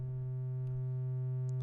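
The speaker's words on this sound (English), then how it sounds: "I'm going to switch it to a sine wave." A Eurorack synthesizer oscillator holds a steady, pure sine tone with a low sustained hum, unbroken throughout, with a couple of faint clicks near the end.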